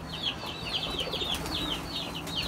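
Medium-sized pigeons in a loft where a pair is being sold give a steady run of soft wing flutters and shuffling, with faint chirpy coos repeating in the background at moderate level.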